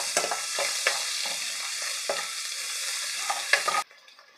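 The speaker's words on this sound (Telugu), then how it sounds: "గరిటెతో ఒకసారి మొత్తం కలిసేలా కలుపుకోవాలి" A ladle stirs meal maker curry with ginger and turmeric in a sizzling pan, scraping and clinking repeatedly over a steady fry before the sound cuts off abruptly.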